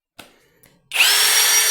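Oraimo Maxdrill cordless drill spinning at adjusted speed: two short clicks, then the motor starts and whirs steadily at close range with a high whine, alone.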